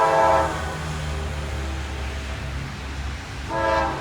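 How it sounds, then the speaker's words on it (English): A westbound freight train pulled by many locomotives rumbles steadily past nearby, with deep engine drone throughout and a horn sounding at the start and again near the end. "Man, he's got a bunch of locomotives."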